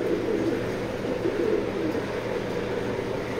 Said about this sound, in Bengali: এটা 21-এর কবুতর